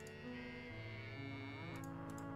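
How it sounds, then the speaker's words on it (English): Cows in the farming game Coral Island moo in a long, droning tone, several overlapping low calls sustained throughout at a soft level. "Let's see all the cows."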